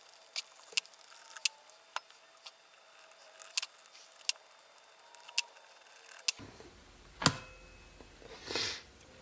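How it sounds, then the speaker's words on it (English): Bolts are worked loose from the cylinder head cover of a Honda Goldwing during a bobber build, giving sharp, close metallic clicks and ticks at irregular intervals, followed by a louder clack and a brief rustling clatter near the end. "Next thing is these bolts on top come off."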